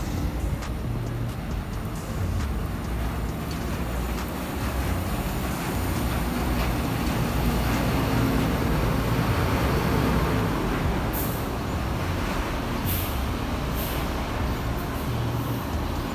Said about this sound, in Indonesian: jadi kalau lihat bus satu keluar bus satu masuk tuh momennya luar biasa